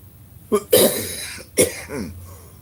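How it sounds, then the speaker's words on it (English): Two harsh, chesty coughs from a scratchy chest close to the microphone, about a second apart, each with a rough raspy tail and quiet between them. "my cough is not due to a cold, but just a little bit scratchy in my chest"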